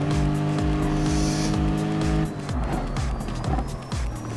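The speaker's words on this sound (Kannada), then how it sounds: "ಒಂದು ಯೆಲ್ಲೋ ಕಾರ್ನ ನಾನು ಇವಾಗ ಓವರ್ಟೇಕ್ ಮಾಡಲೇಬೇಕು" Race car overtaking a yellow car in a PlayStation racing game, with loud engine drone, repeated tire squeals and rhythmic thumps, and gear shifts partway through, no talk.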